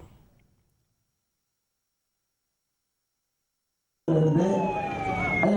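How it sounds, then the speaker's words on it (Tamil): An ambulance siren passing an outdoor political speech, entering abruptly and loud after near silence, its wailing tones sweeping up and down close by. "அண்ணாமலையின் பேச்சுக்கு இடையே ஆம்புலன்ஸ் வந்தபோது பேச்சை நிறுத்தி ஆம்புலன்ஸுக்கு வழிவிடச் சொன்னார்."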